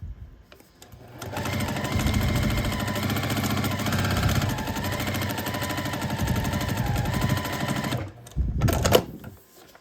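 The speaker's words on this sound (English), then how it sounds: "flip it over and sew on the line between A4 and A5" A sewing machine stitching a foundation paper pieced quilt block, running in a steady rapid loud whir for about seven seconds, then a brief pause, a short final burst and quiet.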